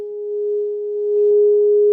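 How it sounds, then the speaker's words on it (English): A singing bowl rings with one pure, sustained tone that holds steady and loud for the whole two seconds during a relaxation session, with no voices. "Going to just make a little sound with my singing bowl"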